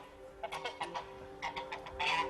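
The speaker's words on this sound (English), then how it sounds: "Crazy bird." A bird squawks and clucks in a string of short, agitated calls, fairly faint and a little distant, with a louder burst toward the end.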